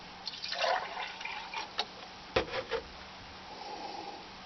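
Maple sap splashes and trickles into a cup in short bursts, with a few clinks and drips, fairly faint and close.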